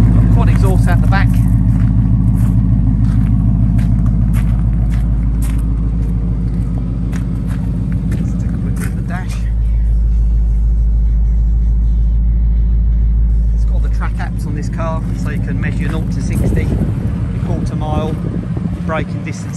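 A 2017 Ford Mustang 5.0 GT V8 automatic convertible with a Whipple supercharger and quad exhaust, its engine rumbling loud and close, the tone easing briefly mid-way before building again.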